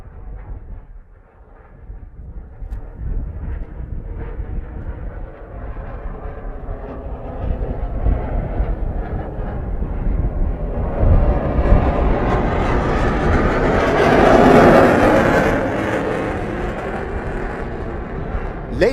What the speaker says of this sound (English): the MiG-29K streaks across the horizon